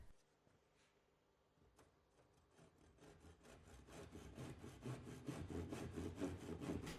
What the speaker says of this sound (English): use a tenon saw to cut just inside the pencil